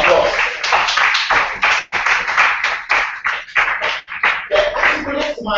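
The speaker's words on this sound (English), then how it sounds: "Let's give him a round of applause." An audience at a public lecture claps loudly and steadily for several seconds, a dense, continuous round of applause.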